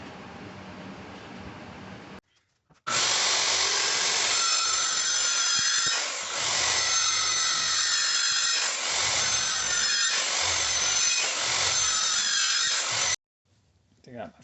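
A power saw set to about 1.5 inches depth cuts step notches into a wooden loft ladder rail, a loud sustained whining cut of about ten seconds with slight dips, preceded by quieter handling and followed by silence.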